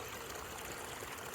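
Water of a small creek flowing below a little waterfall over gravel, a steady soft broadband rush and trickle, faint and continuous.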